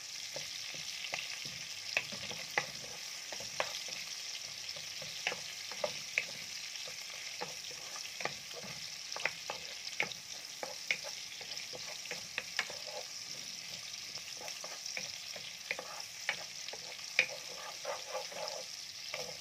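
Onions sauté in a pan for corned beef with potato and cabbage, a steady, fairly quiet sizzle broken by frequent light scrapes and taps of stirring, with no talking.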